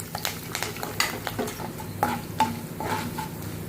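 Garlic, urad dal, dried red chillies and curry leaves fry in a pan while a spoon stirs them, with soft sizzling under repeated scraping and clinks of metal on the pan, close and fairly quiet.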